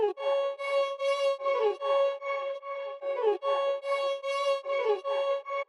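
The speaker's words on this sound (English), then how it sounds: "it's this high-pitched violin lead" A high-pitched violin lead sample plays alone in a producer's beat, bright sustained bowed notes with sliding pitch, phrased in repeating swells of about half a second to a second.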